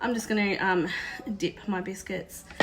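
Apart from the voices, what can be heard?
None of the usual background noises is heard.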